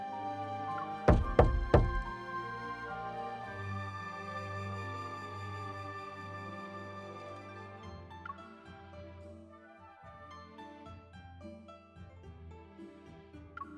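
Two or three sharp knocks land on a door in a video game, close and distinct, followed by a long stretch of soft sustained background music.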